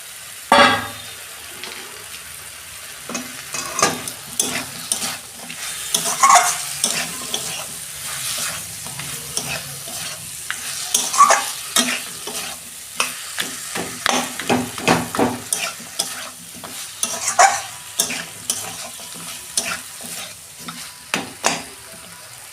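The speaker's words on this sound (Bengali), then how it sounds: "এই যে মাছের মাথাটা দিয়ে দিচ্ছি।" A fish head dropped into a hot oiled pan for a Bengali cabbage curry crackles and sizzles loudly and close, the frying hiss surging in repeated bursts with some stirring over about twenty seconds, with no talking.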